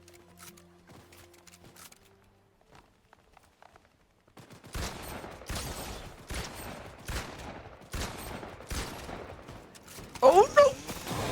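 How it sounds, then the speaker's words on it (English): Rapid bursts of gunfire in a Fortnite match, crackling repeatedly all around after a quiet opening, with sharp close shots near the end. "We've got gunshots all around us."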